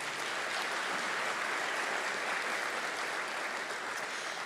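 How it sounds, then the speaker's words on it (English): Audience at a State of the City address applauds the host chamber, a steady, even wash of clapping heard from a distance at low level. "if we could give them a round of applause as well"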